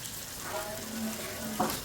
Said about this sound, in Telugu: మిగతా పీసెస్ ఏమో ఫ్రై చేస్తున్నాను